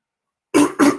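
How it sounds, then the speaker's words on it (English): A man clears his throat during a spoken commentary, two short, loud, close rasping bursts in quick succession after a moment of silence. "Sorry, excuse me, I'm just clearing my throat."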